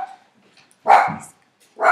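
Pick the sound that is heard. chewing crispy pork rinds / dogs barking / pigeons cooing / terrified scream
dogs barking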